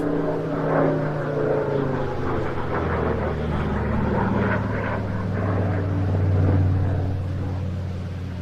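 A vintage Swedish combat aircraft flies past at the Jersey International Air Display, its engine a loud sustained droning roar with shifting pitch as it passes.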